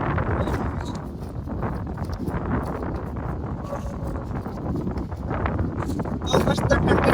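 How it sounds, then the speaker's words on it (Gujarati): Strong, cool wind gusts steadily across an open village hillside, a continuous broadband rush that swells louder near the end, with talking heard over it. "બહુ મસ્ત ઠંડી ઠંડી તેજ હવા આવે છે"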